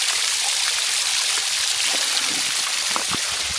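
A small waterfall in a gorge gives a steady, even rush of falling water, broadband and continuous throughout, heard from fairly close with no voices over it.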